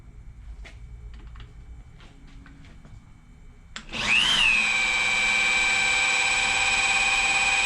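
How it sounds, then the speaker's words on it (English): Faint clicks and taps give way to a loud power drill whirring up to a steady high-pitched spin, turning a Rolls-Royce Springfield Phantom I dynamo in reverse, holding without letting up. "We're going to spin it with the drill."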